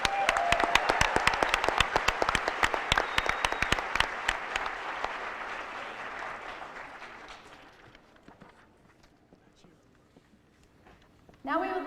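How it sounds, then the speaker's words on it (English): Applause from a school audience at a senior awards night honoring graduating seniors, dense and steady at the start, gradually thinning into sparse claps and tapering to near quiet before a brief sound at the end. "Let's give them a round of applause."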